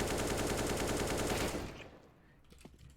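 Rapid automatic AK rifle fire in an aim-training video game, a dense loud burst of shots lasting about a second and a half before cutting off, followed by faint scattered impacts.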